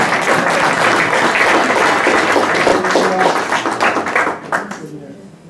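A church congregation applauds to acclaim God during a Sunday service, dense and loud clapping sustained for several seconds before thinning out and fading near the end.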